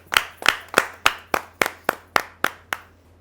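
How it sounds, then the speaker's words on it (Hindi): About ten evenly spaced hand claps at a Hindi poetry recital, crisp and close, ringing slightly before the next, then stopping. "जोरदार तालियों से स्वागत कीजिए"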